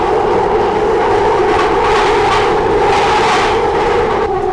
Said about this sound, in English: The trains were much louder than I expected